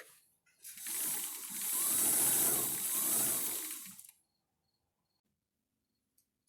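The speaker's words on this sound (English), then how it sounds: "raise the presser foot so that I can pivot the fabric and sew down this edge as well" A sewing machine stitches fabric for a baby sling, one continuous burst of fast mechanical whirring and needle chatter lasting about four seconds, close and fairly loud, then stopping into near silence.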